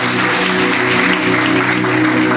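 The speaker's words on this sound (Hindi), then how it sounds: "जोरदार तालियां यीशु के लिए जाते हैं।" A church congregation bursts into loud, steady applause, a dense continuous clapping that fills the room throughout.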